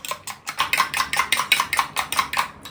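Egg mixed briskly in a dish with a utensil, giving a quick steady run of clinking taps against the bowl, close and clear, about a dozen strokes with no voices.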